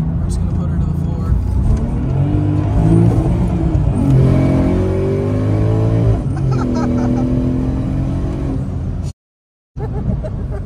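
An 800-horsepower Porsche 911 Turbo goes to full throttle, its engine howl rising steeply in pitch under boost. The sound is loud and close, someone talks over it, and it cuts out briefly near the end.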